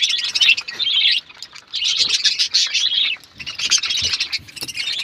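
Several birds kept in a backyard poultry house chirp and tweet in dense, overlapping bursts, fairly close and steady, with short pauses between busy stretches.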